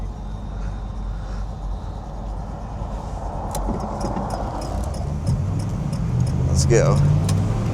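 A 1969 Oldsmobile 442 W-30 V8 rumbling as it pulls away to race a Rolls Royce, a steady low engine roar building in the second half, with a person speaking briefly over it.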